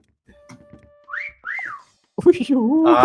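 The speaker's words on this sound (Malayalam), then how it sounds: "വലിയ വിസിലാണല്ലോ ആ സൈഡിൽ കേൾക്കുന്നേ." Whistling in the video game Meccha Chameleon: two rising-and-falling tonal whistles in the middle, followed by a louder, warbling multi-tone whistle at the end, with faint voices and clicks beforehand.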